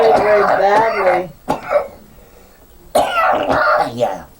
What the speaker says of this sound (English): You're coughing very, very badly.